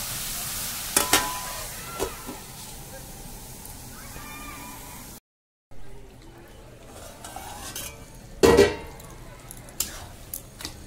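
Bottle gourd sabji being stirred with salt and turmeric in a pan, with a few scraping strokes and a soft sizzle, a short silent gap midway, then a louder scrape near the end; no talk over it.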